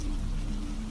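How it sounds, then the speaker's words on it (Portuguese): Rain patters steadily onto a kitchen linoleum floor inside a small cabin, a close, continuous soft hiss of drops. "O cheiro da chuva enchia a pequena cabana. Ouvi-o cair no linóleo da cozinha."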